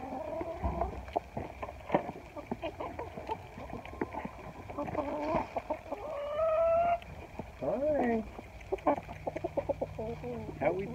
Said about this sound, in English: here we got one little chicken coming.